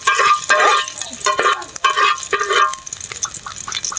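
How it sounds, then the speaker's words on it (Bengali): Garlic sizzles in hot oil in a wok outdoors, with repeated scraping stirs and bursts of crackling frying coming in uneven pulses, close and fairly loud. "এই যে রসুন দিয়া দিছি কড়াইয়ের ভিতরে"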